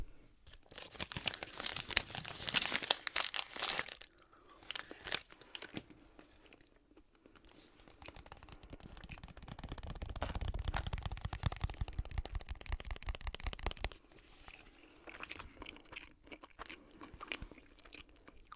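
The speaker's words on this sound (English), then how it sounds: "And the paper is actually, I think, biodegradable. The way it rips apart, it's very satisfying." Biodegradable paper wrapping is ripped and crumpled up close, with dense crinkling, tearing bursts early on and a rougher stretch of ripping later, no voices.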